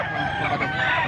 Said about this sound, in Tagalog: Guwapo yung manok ni boss oh